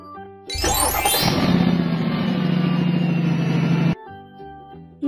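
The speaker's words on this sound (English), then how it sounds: "Car." Car engine sound from a toddler vehicle puzzle game: a synthesized motor starts abruptly, rises into a steady loud rumbling idle for about three seconds, then cuts off sharply, followed by a brief musical chime.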